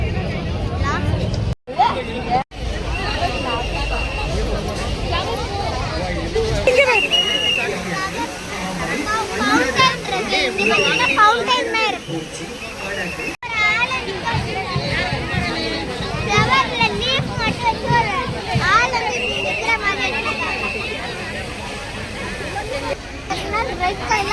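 Dense crowd babble at a busy flower show, many overlapping voices with children's shouts and play mixed in, steady and close throughout with occasional brief dropouts.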